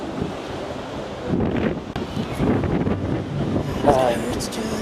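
Sea waves wash onto a beach in a gentle, rolling surge, mixed with heavy wind buffeting the microphone, with a relaxed, open outdoor feel and no speech over it.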